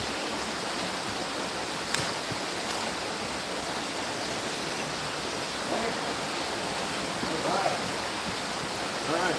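A trout stream flows steadily with a broadband, unbroken rush of water, near and even in level, with brief faint splashes and knocks now and then and no voices.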